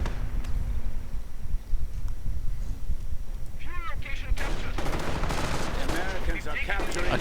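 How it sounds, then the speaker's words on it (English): Heavy gunfire and artillery-like bursts of a Company of Heroes battle rumble steadily throughout, growing busier and denser in the second half, with a game voice speaking over the combat noise. "Grenadiers on the right flank coming under heavy fire."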